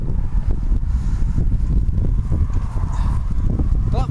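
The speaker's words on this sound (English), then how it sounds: "The sound might not be brilliant because it's windy." Wind buffets the microphone outdoors at the Battle of Britain War Memorial on a windy day, producing continuous low rumbling gusts and thumps that dominate the whole stretch.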